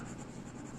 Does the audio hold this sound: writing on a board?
yes